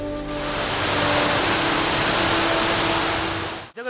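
Ghost Waterfall in Sindhupalchowk, Nepal, roars with a loud, steady broadband rush of falling water that holds constant and then cuts off abruptly.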